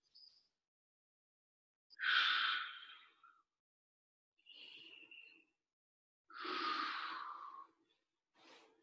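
Deep breathing during a pigeon pose stretch at a home workout: two long, close exhalations about five seconds apart, each followed by a softer breath, with silence in between.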